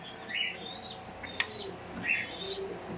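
Pigeons at a racing pigeon market coo and chirp intermittently in a few soft, close calls, with one sharp click partway through and no talking.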